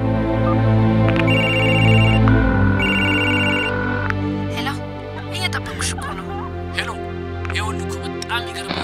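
A telephone ringtone in an insurance advert rings in repeated electronic bursts over a steady musical bed, followed by speech.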